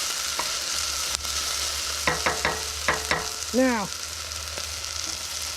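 Onions frying in a pot over a camp stove for a rustic lentil soup, a low steady sizzle under a spoken word, with a few sharp clinks and scrapes of stirring and a brief squeak near the middle.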